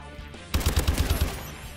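Rapid automatic bursts from a Pytaek light machine gun in Advanced Warfare, about seven close, punchy shots in quick rhythm that start abruptly after a quiet moment and ring out loudly before tailing off.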